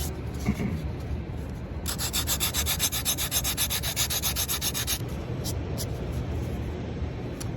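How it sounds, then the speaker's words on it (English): Sandpaper is rubbed across a foam bottle mock-up in quick, even back-and-forth strokes, a close, continuous rasping hiss that runs for several seconds and then stops. "the goal here is just to sand that straight across and get that to line up tangent with that radius"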